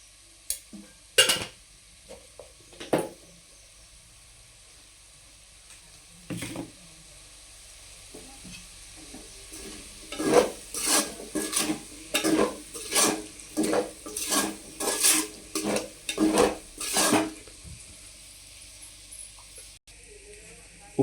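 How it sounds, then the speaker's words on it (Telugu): Potatoes fry in a pan with salt and chili. A quiet sizzle runs under a rapid series of scraping, rhythmic stirring strokes, with a few scattered scrapes before them. "ఉప్పు కారం వేసాక ఒక హాఫ్ నిమిషం వేగాకండి"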